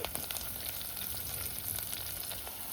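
Curry leaves hitting mutton masala cooking over a wood-fired stove, a faint, dense crackling sizzle that runs steadily throughout with small popping bursts and no voices.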